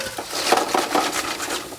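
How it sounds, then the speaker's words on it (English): Japanese pumpkin pieces sear on a hot sheet tray, making a continuous close crackling sizzle punctuated by a few light metallic clinks and scrapes of the pan. "You get a nice initial sear going, so you hear that? That's all the sizzle."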